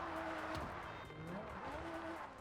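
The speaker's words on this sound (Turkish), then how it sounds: "Ve bu karda araba kayıyor hocam." Car skidding on snow in the mobile driving game Car Parking Multiplayer 2: a continuous engine drone with sliding tire squeal and pitch sweeps, steady and fairly loud throughout.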